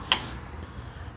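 An EV charging connector from a heavy-corded GRIZZL-E charging unit snaps into a car's charge port with a single sharp click, followed by quiet room tone.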